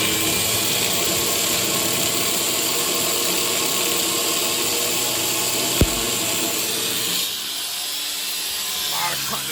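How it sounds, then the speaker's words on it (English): A power tool cuts a sheet metal patch for the rusty bed of a Ford F150 truck, giving a loud, continuous whining drone close by with one sharp crack near the end. "So I got this piece I'm cutting right here"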